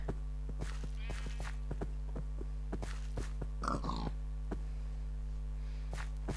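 Repeated short Minecraft pig grunts with footstep-like taps over a constant low electronic hum, with a brief louder squeal in the middle.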